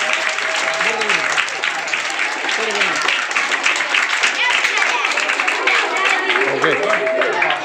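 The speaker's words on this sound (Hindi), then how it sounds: "जोरदार तालियां।" Sustained applause from a crowd at a quiz award ceremony as a first prize is handed out, dense steady clapping throughout with some voices in the background.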